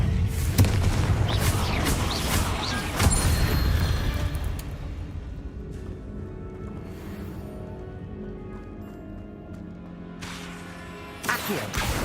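Confringo spell blasts in the video game Hogwarts Legacy boom out as heavy crashing explosions, loud and dense early, then fading into a softer rumbling tail before another sharp burst near the end.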